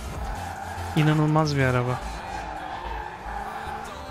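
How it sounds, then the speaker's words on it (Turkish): An electric McLaren's tires squeal briefly over a steady drone, with someone talking in the background. "Sadece lastik seslerini duyuyorum ve başka hiçbir şey duymuyorum."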